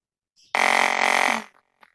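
Buzzer of a temperature sensor smart alarm circuit with LED and LCD, a single loud harsh electronic tone lasting about one second and then cutting off, alone in quiet.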